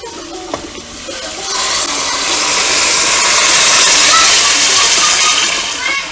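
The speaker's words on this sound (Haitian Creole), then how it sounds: "on va le vider de l'eau." Water is emptied out of a container in a long, loud, splashing rush that swells after a second and keeps pouring until the end.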